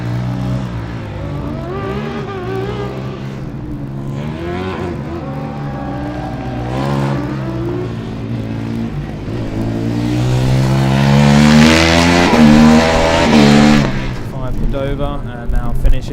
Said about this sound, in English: And now finishing is the Italian car 39 from Rome.